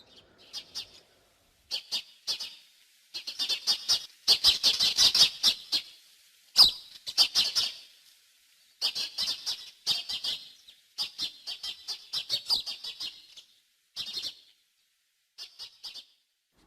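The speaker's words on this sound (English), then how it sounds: "the birds chirping" Birds chirp outside a room window in a Mandal village in Uttarakhand on an early morning, bright repeated bursts of tweets coming in clusters with short quiet gaps between them, fairly close and alone with no talking.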